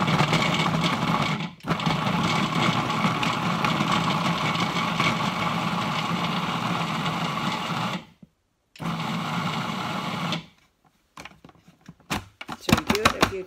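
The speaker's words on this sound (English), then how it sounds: "then you just start pulsing it and just mix it" Food processor pulsing butter into flour for a flaky pie crust, a loud steady motor whir running for several seconds in bursts, then a short stop and a few brief choppy pulses near the end.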